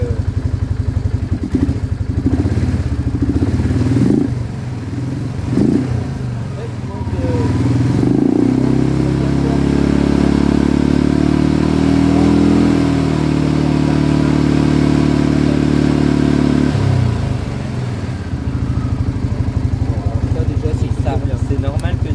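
A quad's engine runs and revs in a workshop during battery-charging checks, a steady loud drone climbing and holding high for several seconds before dropping back to idle, with people talking over it.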